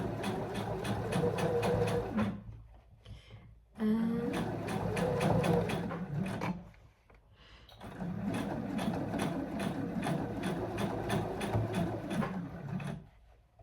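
A sewing machine stitches in the ditch on a cozy autumn dress in three long, steady whirring runs separated by brief pauses with small clicks, loud and close.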